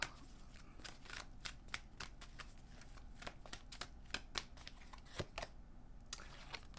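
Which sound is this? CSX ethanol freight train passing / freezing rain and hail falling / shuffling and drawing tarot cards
shuffling and drawing tarot cards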